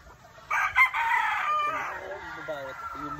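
A yellow-legged gamefowl rooster crows once, loud and close, with a drawn-out call that fades into a few short clucks.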